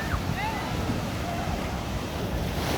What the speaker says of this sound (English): And you can see there's big waves